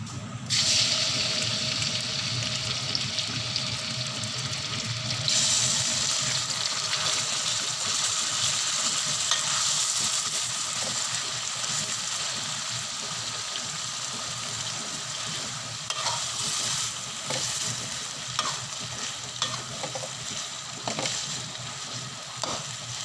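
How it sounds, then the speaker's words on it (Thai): Chili paste with pork stir-frying in oil in a pan for a tamarind chili dip, a steady loud sizzle running the whole time with scraping stirs and occasional clinks near the end. "จะเอาไปผัดก่อนนะคะ น้ำมันลงไปค่ะ"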